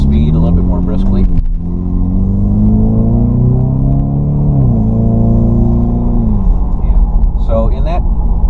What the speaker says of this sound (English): The exhaust note was also increased